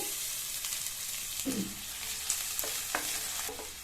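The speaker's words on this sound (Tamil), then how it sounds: "இந்த வெங்காயத்தை இதனுடைய கலர் நல்லா மாறி ப்ரௌன் கலராக வர வரைக்கும் வதக்கிக்கலாம்" Sliced onions sizzle steadily in hot oil and ghee, a constant close frying hiss broken by a few spoon-stirring scrapes and light clinks.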